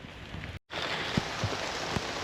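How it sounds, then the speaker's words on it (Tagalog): Heavy rain pours in Adelaide Botanic Garden, heard from under a shelter as a steady, dense, close hiss with a brief cutout and a few louder drops striking nearby. "Malakas ang ulan, wala kang dalang payong."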